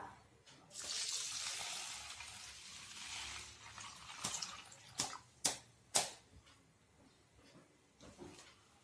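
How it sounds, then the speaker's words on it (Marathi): Bhagar and sabudana are rinsed with water in a bowl, a soft splashing wash followed by a few sharp clinks and knocks against the bowl, close by with no talk. "यामध्ये पाणी टाकून स्वच्छ धुवून घेऊया।"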